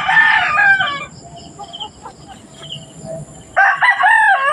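Rooster in a backyard chicken coop crows loudly twice, at the start and the end, with soft clucking and other hens in between.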